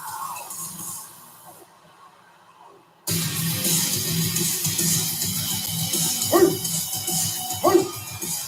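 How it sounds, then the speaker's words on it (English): Two short dog barks ring out near the end, over a steady roar of the arena crowd during a wrestler's entrance at WWE WrestleMania 41 in Las Vegas, Nevada. "The dogs are barking in Las Vegas, Nevada."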